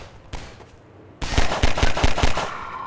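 Turret gunfire in the video game Half-Life 2 comes as a single shot, then a rapid string of loud, evenly spaced bursts over a steady background rumble.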